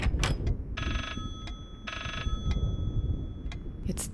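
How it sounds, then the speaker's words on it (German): A telephone ringing in the horror video game Layers of Fear, set off by pulling a book: two sustained electronic ring bursts over a dull rumbling background, with footstep-like knocks around them. "Wenn ich an dem Buch ziehe, dann klingelt das Telefon."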